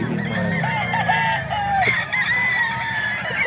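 Young roosters crow and cluck at the Bocaue pet market in the Philippines, several birds calling close and loud in overlapping bursts over a constant background of other fowl.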